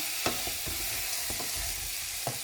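Chicken sautés in a pan with a little soy sauce for adobong manok, giving a loud, continuous hiss of sizzling with a few light stirring clicks.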